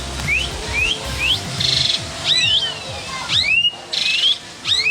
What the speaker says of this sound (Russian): есть такие птицы, есть так громко орут